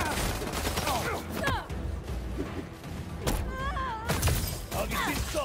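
Video-game gunfire in Spider-Man Miles Morales: repeated sharp shots and thuds crack through a dense, loud battle soundscape, mixed with scattered effects and character voices.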